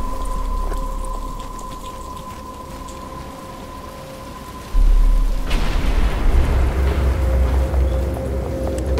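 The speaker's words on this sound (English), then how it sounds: "But it's starting to rain." Rain falls in the video game Arkham Asylum, starting as a light patter under a faint tone, then swelling suddenly into a loud, steady downpour with rumbling low noise.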